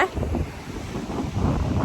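Gusty wind buffeting the microphone in low rumbling bursts on the coast at Castelo do Queijo, Portugal, with faint surf in the background.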